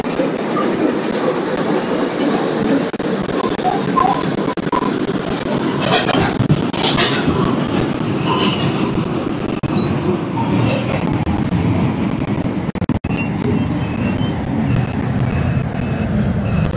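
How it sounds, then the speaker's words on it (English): An R142 subway train on the 5 line bound for Eastchester rumbles and clatters loudly and steadily throughout, with rhythmic wheel clicks and squeals over a constant heavy roar. "This is an Eastchester bound 5 train."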